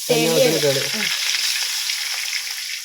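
Onions sizzle and fry steadily in a pan as rice water is poured in, a continuous hiss throughout, with a voice briefly heard over it in the first second.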